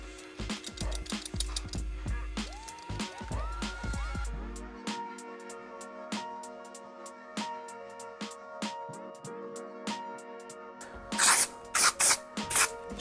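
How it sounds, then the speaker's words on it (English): Mr. Smith texture spray is sprayed onto a short-fringe haircut in a few quick hissing bursts near the end, following a stretch of background music with no talk. "Spraying in some Mr. Smith texture spray just to put some grit in there"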